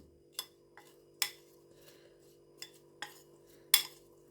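A spoon clinks against a bowl while apple and pear pieces are tossed with cinnamon and sugar, a handful of sparse, light metallic taps separated by quiet pauses over a faint hum.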